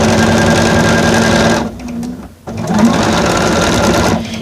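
A sewing machine whose thread cutter is not cutting well runs with a loud, steady mechanical whir, drops out briefly for about a second in the middle, then resumes at full speed, with no talking.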